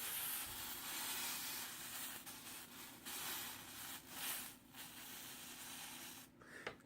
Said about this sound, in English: It makes steam and pushes it right into the briar